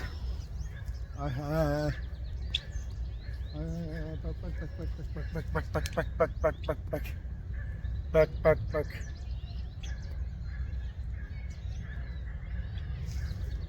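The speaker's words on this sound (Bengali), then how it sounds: "পাখি কুটকুট করে শব্দ করতেছে।" Birds call in Centennial Park, Mississauga, where ducks and Canada geese gather. Separate calls and a quick run of repeated chirps stand out over a low, steady outdoor rumble.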